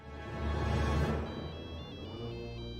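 A telephone rings faintly and briefly in a film scene, with a soft electronic tone coming in after a swell of low rumbling background sound.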